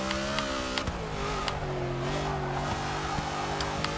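A Ford Falcon GT Mad Max Interceptor in Forza 6 holds a loud, steady engine drone with shifting revs and brief gear-change blips throughout, with no talk.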